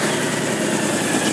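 A 2010 Honda Stateline motorcycle with stock exhaust idling steadily after starting, a continuous close engine rumble with no other sounds.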